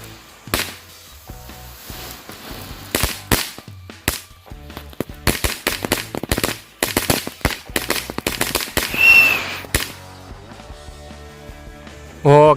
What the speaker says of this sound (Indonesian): untuk yang selanjutnya kita nyalain mercon tank baja terbaru nih, tank Thor